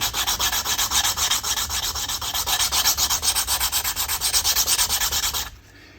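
Sandpaper rubs back and forth over an uneven, never-sanded surface in a fast, regular rhythm of about thirty strokes, loud and close, before stopping abruptly near the end.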